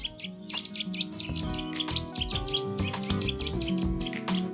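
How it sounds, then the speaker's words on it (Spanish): A Eurasian nuthatch calls in an urban setting, giving repeated sharp, bright chirps in quick bursts over a thick background of other birdsong and steady insect-like trilling. "Es el trepador azul."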